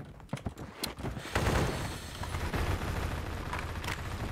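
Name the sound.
gunfire from a gun with a muzzle brake in Phantom Forces video game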